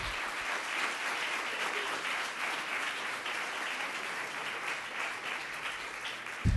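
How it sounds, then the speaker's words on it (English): A crowd applauds steadily, a dense wash of clapping that holds at an even level throughout. "Let's give them a round of applause."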